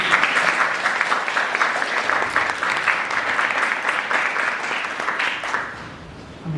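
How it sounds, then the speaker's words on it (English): A crowd gives a round of applause at a talk, loud, dense clapping that holds steady for several seconds and then tapers off sharply near the end. "Can we give a round of applause?"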